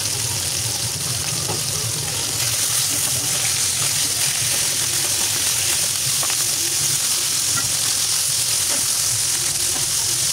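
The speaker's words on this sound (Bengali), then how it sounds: "এখন খুব সুন্দর করে আমি ভেজে নিব।" Pieces of food frying in a pan of hot oil, a steady, loud hiss and sizzle with faint crackles running throughout, close up and continuous.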